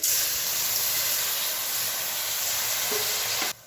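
Water poured onto jaggery in a hot kadhai while making puffed-rice laddoos sets off a loud, steady sizzle and hiss of steam that holds evenly for several seconds and then cuts off abruptly.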